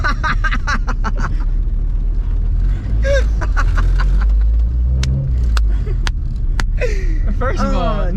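A Honda Civic with an H2B engine pulls away, its engine rumble loud and steady beneath frequent overlapping talk, with some brief sharp knocks near the end.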